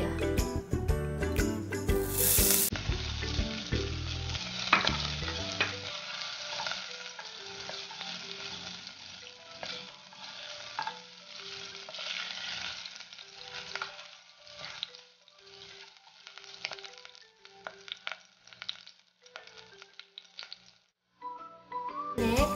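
Ginger sizzles and fries in a hot pan for lugaw, a steady crackling sizzle with occasional stirring scrapes, loud at first and then settling into a continuous, moderate frying hiss.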